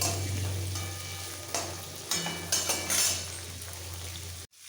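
Bitter gourd and bottle gourd stirred in hot oil: a steady close sizzle of frying with a few scraping strokes of a utensil against the pan, then it cuts off abruptly.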